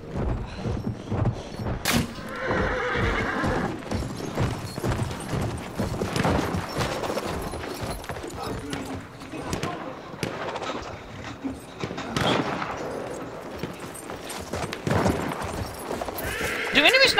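Horse whinnies and clip-clopping hooves in Battlefield 1 mixed with gunshots and bursts of game action, with a person talking over it.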